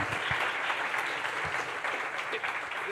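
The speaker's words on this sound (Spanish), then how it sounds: "aplauso, por favor" An audience at a presidential candidates' forum applauds in a steady, fairly loud wash of clapping that fills the moment, with no talking over it.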